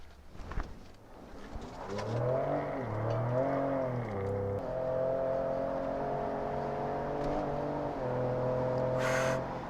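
A 2019 Ford F-150 Raptor 4x4 SuperCrew pickup accelerates hard from close by, its engine note climbing through several gear shifts in a loud, sustained roar, with a brief burst of wind noise near the end.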